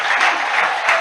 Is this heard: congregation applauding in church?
yes